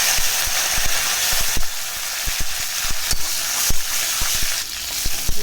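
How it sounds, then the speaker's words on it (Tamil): Mustard seeds and curry leaves fry in hot oil with a dense sizzle, punctuated by many sharp, irregular pops and crackles from the seeds spluttering close by. "கடுகு போட்டுட்டு கடுகு பொறிஞ்சதும் வடகு போட்டுக்கோங்க இப்போ கருவேப்பிலை போட்டுக்கோங்க"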